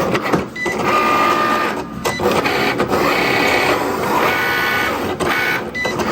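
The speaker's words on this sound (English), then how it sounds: "The first one, the printer was acting up a little bit," A printer runs steadily while printing candle dust covers, giving a loud continuous mechanical whir with brief stops and restarts, heard alone and close.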